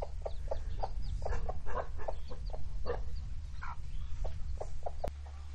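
Chicks on a farm cluck in a steady stream of short calls over a constant low background hum, with one sharp click near the end.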